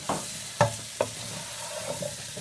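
Pumpkin being stirred in a cooking pot for a ginger, cinnamon and coconut milk soup, with a few distinct scraping knocks of the spoon against the pot over a low steady background, no talking.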